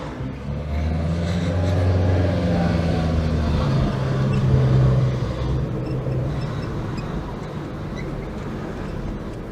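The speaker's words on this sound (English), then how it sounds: "It just sounds and feels a bit like you're driving a car with a slipping clutch." A Nissan Micra with a CVT gearbox drones steadily as it accelerates, the pitch holding fairly even with a smooth, continuous hum rather than distinct gear shifts, like a slipping clutch.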